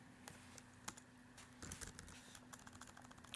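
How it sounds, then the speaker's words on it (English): Quiet typing on a computer keyboard, a run of soft irregular key clicks close by over a faint steady hum, with no voices. "I'll just type it"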